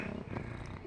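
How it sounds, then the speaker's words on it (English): A ginger cat purrs close by in a soft, low, continuous rumble with a faint rhythmic pulse, heard briefly and quietly. "I have found a cat."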